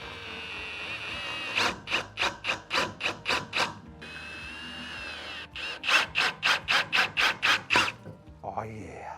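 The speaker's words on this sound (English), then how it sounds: "we're driving a screw with no pilot hole down into a piece of 2x4" A power drill whirs in rapid repeated bursts as a screw is driven without a pilot hole into a 2x4, two runs of pulsing grinding with a short pause between, close and loud.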